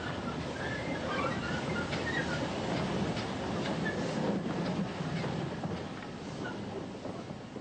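Steam train on the Keighley and Worth Valley Railway in West Yorkshire, approaching Oxenhope station, a steady rumbling rolling noise of carriages on the track, continuous and moderately loud throughout.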